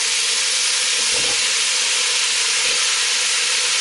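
Onions and aromatics fry in a pan for a gammon and cabbage stew, giving a constant, close sizzling hiss with a couple of soft low knocks, no voices.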